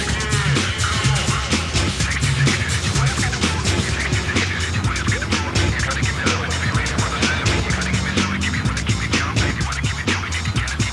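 Cars rev and race at a large GTI tuning meet, a loud, continuous roar of engines with tyre noise and crowd din, dense and unbroken throughout.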